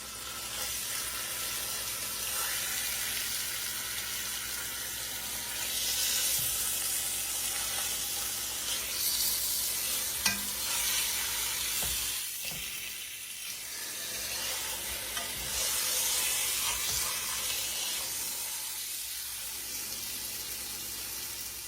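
A pork roast sears in a Dutch oven, giving a steady, close sizzle that swells and eases in waves over twenty seconds, with occasional soft knocks.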